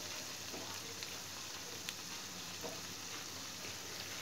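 Lentil fritters made from masoor and khesari dal with greens fry in oil on low heat, a quiet steady sizzle with small scattered pops throughout.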